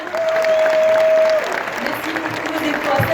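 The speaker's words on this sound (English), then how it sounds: "Sous vos applaudissements, on les accompagne." Applause from an audience at a Solar Decathlon Africa 2019 closing ceremony, steady and fairly loud, with a sustained tone and voices audible over the clapping.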